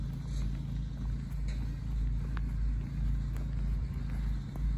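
A steady low mechanical rumble of a toilet truck pumping out a toilet block at a campsite, droning continuously with faint clicks and knocks over it, moderately close.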